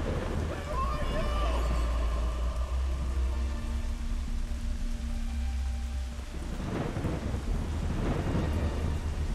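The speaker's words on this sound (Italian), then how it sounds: "il tuono, bellissimo l'effetto" Thunder rumbles through a steady downpour in the video game Kena: Bridge of Spirits, a deep rolling boom building late over constant rain, with someone talking over it.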